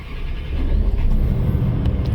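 A car engine catches and settles into a deep, loud idle rumble that swells slightly as it revs, a close and steady low growl heard alone over about two seconds.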